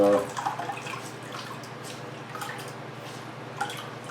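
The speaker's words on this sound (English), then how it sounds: "I'm just gonna squeeze the water out of this real good" Soft, steady dripping and trickling of water squeezed from wet cotton, close by, with a few brief splashy squishes near the start.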